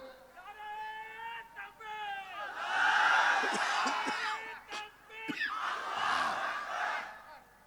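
A crowd at an Islamic religious gathering (mahfil) in Bogura roars a loud takbir chant in unison, rising in swells of massed voices after one man's lead call, with a second burst following close behind.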